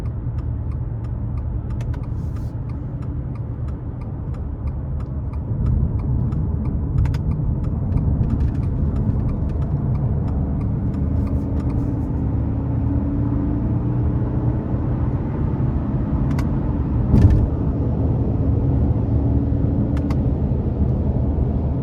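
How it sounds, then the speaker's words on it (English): A 2023 Subaru Legacy Limited accelerates onto an interstate in manual mode, its engine note a steady low drone that rises gradually under constant road and wind noise, with a brief thump near the end. "Now I'm gonna put it into the manual mode and we'll see how quick this thing really is getting on the interstate here."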